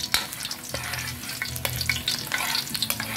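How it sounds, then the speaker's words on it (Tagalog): Chopped garlic sizzles in hot oil in a pan for miso sinigang, a steady crackling fry with brief stirring clatters over it and no voices. "Brown natin ang bawang."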